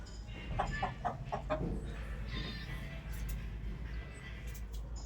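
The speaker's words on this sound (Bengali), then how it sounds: "আর সাইডে একটা মুরগির ঘর।" Chickens cluck close by in a village coop in quick bursts early on, then settle into softer intermittent clucking over a low steady hum.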